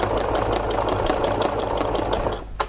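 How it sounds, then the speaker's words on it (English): A Janome MC 11000 sewing machine stitches fabric guided along a ruler with a fast, steady mechanical whir of needle strokes. The stitching stops abruptly just before the end. "I can stitch down here"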